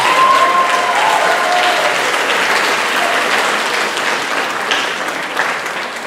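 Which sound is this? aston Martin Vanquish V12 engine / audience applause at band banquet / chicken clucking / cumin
audience applause at band banquet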